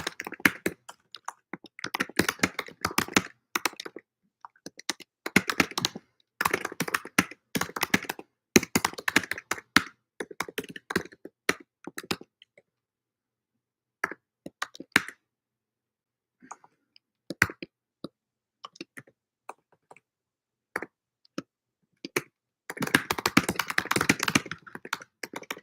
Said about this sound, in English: Give me a second to type it.